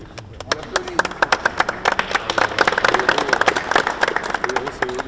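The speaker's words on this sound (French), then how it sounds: "On applaudit." An indoor audience bursts into applause, dense overlapping hand claps building to a steady patter for several seconds with faint voices underneath.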